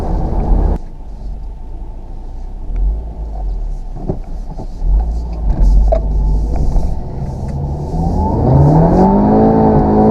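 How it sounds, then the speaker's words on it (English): A 2016 Audi TT TFSI Roadster with a six-speed manual gearbox spins all four wheels with traction control off. Its engine rumbles loudly under road noise, then revs up in a rising pitch toward the end. "Spinning all four wheels."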